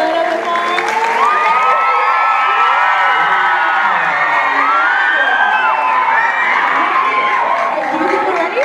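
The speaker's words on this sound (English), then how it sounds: "can we get a little bit of an applause here?" Loud, sustained applause from a Filcan Idol Montreal crowd, mixed throughout with cheering, whoops and high excited shouts.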